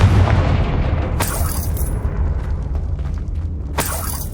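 A Confringo blasting spell in Hogwarts Legacy explodes in loud booming bursts, with a sharp crack near the start and another near the end, each over a heavy rumbling roar.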